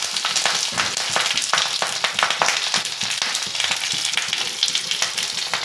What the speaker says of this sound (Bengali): ছাড়া হচ্ছে তেলে।